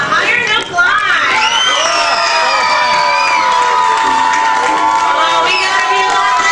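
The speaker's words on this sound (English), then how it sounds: "The louder you cheer, the higher they'll climb." An audience at an amusement park tiger show cheers, shouts and whoops steadily while tigers climb, a loud, dense crowd roar with many children's voices that carries on without a break.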